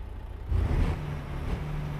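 A truck engine in American Truck Simulator revs up, its low rumble swelling into a loud surge before settling to a steady idle-like drone, with no voices.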